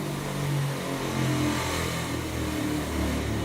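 An electric motor runs steadily in an electrical engineering lab at speeds of around 4,300 RPM, giving a continuous, even hum that is moderately loud and holds constant throughout.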